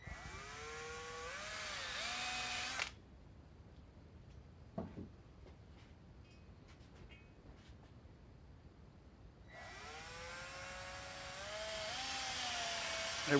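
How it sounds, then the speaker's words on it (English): Ball hone spinning inside the valve guide bores of a Porsche 912 cylinder head, a loud whining power-tool drone that stops, leaves a quiet pause with light clinks, then starts up again. "I ran this ball hone down in the bores just to clean up some of the scratches that were left in the bore when you extract the valve guides."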